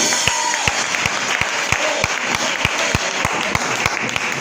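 A church congregation claps in a steady, even rhythm, sharp and close, with a faint murmur of crowd sound underneath.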